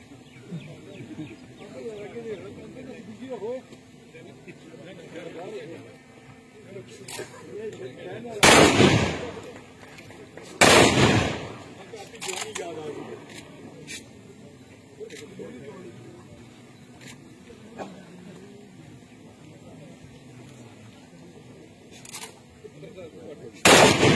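Gunfire at a police training passing-out ceremony firing display in Mansehra, a few loud single shots cracking out at intervals over steady crowd murmur and a speaker's voice, with one last shot at the end.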